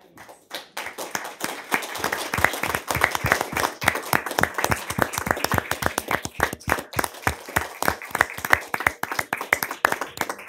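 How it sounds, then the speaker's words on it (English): A city council meeting audience gives council members a round of applause: after a quiet start, many hands clap in a sharp, rhythmic, fairly sparse pattern that carries on steadily for around ten seconds. "let's give please, them a round of applause."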